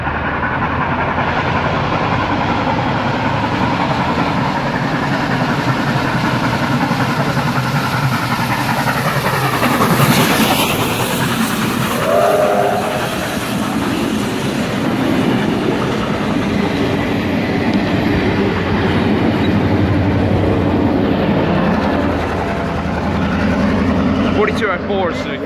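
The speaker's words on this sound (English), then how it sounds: "We've got the Ex-Bathurst Bullet passing through platform number 1." The Ex-Bathurst Bullet heritage train rolls loudly through platform 1 at Blaxland Station, a sustained rumble of engine and wheels with rhythmic clatter that swells midway and stays close for the whole passage.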